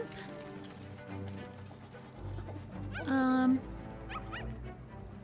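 Dog barking and yipping in the video game Blanc, a few short high barks and whimpers mid-scene over soft game music, with people talking around them.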